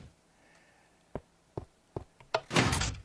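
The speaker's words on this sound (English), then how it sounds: "hidden door mechanisms. This was my first try." A hidden door mechanism in a castle-building video game opens with a series of sharp mechanical clicks and thunks, then a longer grinding slide that swells loudly at the end, heard alone.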